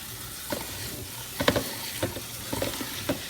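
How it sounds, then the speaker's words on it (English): Kale leaves are rinsed under water, a steady hiss of flowing water broken by soft rustling splashes and bumps as the leaves are handled up close. "take all the leaves that you have just broken off from the stems and to wash them"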